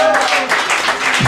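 Brief, loud applause from an audience at a drag racing awards ceremony, dense clapping with voices mixed in over just over a second.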